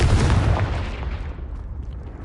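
A Confringo spell explodes in the Hogwarts Legacy video game with a heavy, close boom that rolls off into a fading, rumbling tail.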